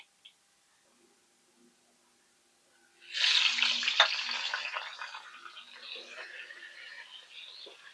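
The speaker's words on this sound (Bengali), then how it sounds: "এবার এই তেলে ফুলকপি ভেজে নেব" Cauliflower florets drop into hot oil with a sudden loud sizzling hiss after a few seconds of near silence, then settle into a steady, softer crackle of frying.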